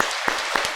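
Congregation clapping during a Korean church Sunday service, a few scattered claps at a steady beat, fairly close and brief, over a soft background hush.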